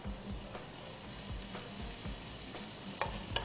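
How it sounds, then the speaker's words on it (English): Ginger frying in a pan sizzles softly at close range, with rhythmic scraping taps from stirring every half second or so and a couple of sharper clicks near the end. "And then you've got to fry it up until the ginger becomes completely translucent."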